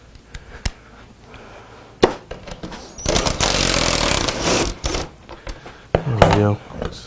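A power drill with a 10mm socket and extension backs out seat bolts on a Ford F150, with short bursts and then a sustained whir, loud and close. Clicks and taps come between the bursts.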